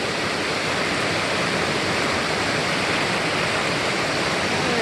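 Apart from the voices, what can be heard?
waterfall in Lower Eldridge Hollow, Arkansas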